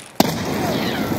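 A grenade goes off in the Escape from Tarkov game: one sudden close blast breaks a quiet moment, and a long noisy rumble with debris-like crackle follows it.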